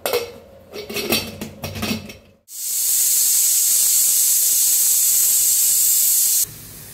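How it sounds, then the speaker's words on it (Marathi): A pressure cooker on a gas stove lets out a loud, steady hissing whistle of escaping steam for about four seconds, then cuts off abruptly, after a short stretch of clattering kitchen sounds. "तर कुकर आपला चांगला शिट्टी दिलेला आहे"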